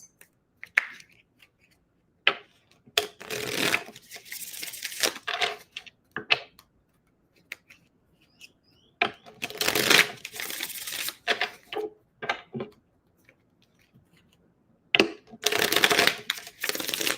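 Tarot cards are shuffled by hand in several bursts of rapid riffling and flicking, close and crisp, separated by short quiet pauses and a few single taps.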